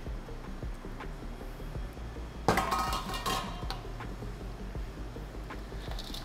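Lentils being mixed with acorn squash aioli in a bowl, soft scraping and stirring with one sharp clatter of a utensil against the dish, fairly quiet and close.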